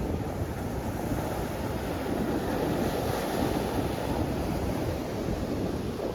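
Sea waves break continuously in rainy, turbulent weather, a dense, constant roar of surf mixed with wind buffeting the microphone, with no voices.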